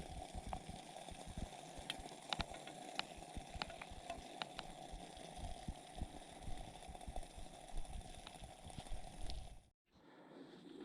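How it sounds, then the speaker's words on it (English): Low, steady bubbling and rumbling of water at a rolling boil in a pot for Labrador tea, with scattered pops and a faint hum, quiet and continuous. "I kept it boiling because I didn't want to sit here all night"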